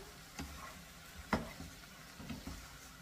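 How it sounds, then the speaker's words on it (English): A shrimp and okra stew stirred in a pot: faint, quiet simmering sizzle with a few soft spoon knocks and scrapes against the pot at irregular intervals. "we're going to stir this again"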